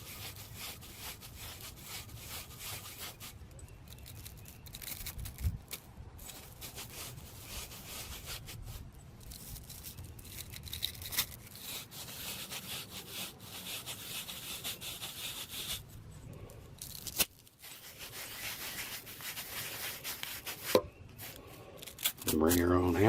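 Supco flame sensor cleaner tool with a 90-degree head turned clockwise, giving a steady dry rubbing, scraping sound that runs throughout at close range under light background noise.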